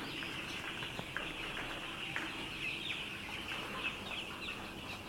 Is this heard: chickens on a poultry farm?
yes